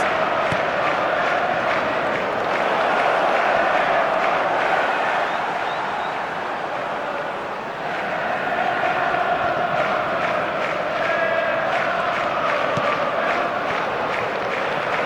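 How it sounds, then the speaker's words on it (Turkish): A stadium crowd in the eFootball 2025 video game chants and roars continuously, a dense, loud massed sound with rising and falling swells, heard alone without commentary. "Bir dinlesene stadın dört bir yanından destek tezahüratlarını duyabiliyoruz."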